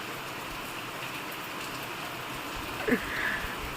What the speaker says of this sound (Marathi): बाहेर पाऊस पडत आहे